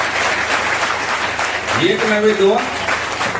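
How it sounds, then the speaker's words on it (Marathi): A crowd of villagers and children clapping at a notebook-distribution event in a tribal Zilla Parishad school, a dense steady round of applause under someone speaking over a microphone. "त्यांच्यासाठी जोरदार टाळ्या वाजवायच्या"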